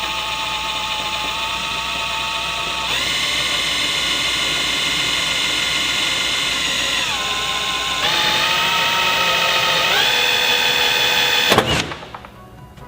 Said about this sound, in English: So I'm just going to pop this off and then drill my hole through there